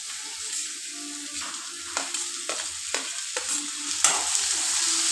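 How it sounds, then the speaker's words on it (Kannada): Tomatoes and okra frying in oil on a pan, a soft continuous sizzle punctuated by several sharp stirring scrapes, close and alone without talk. "ಟೊಮೊಟೊ ಚೆನ್ನಾಗಿ ಫ್ರೈ ಮಾಡ್ಕೊಬೇಕು ಮೆತ್ತಗಾಗಂಗೆ."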